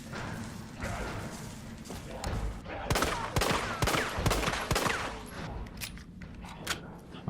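Samurai Edge pistol firing in Resident Evil 3 Remake, a rapid string of sharp, loud shots with echoing thuds, dense in the middle and thinning toward the end.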